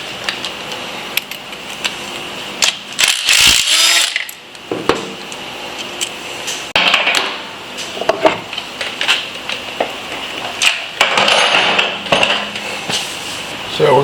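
Mechanical clicking and metallic clatter from work on a Harley touring bike's reverse-threaded clutch hub nut, with irregular ratcheting bursts and tool knocks close to the microphone across the clip.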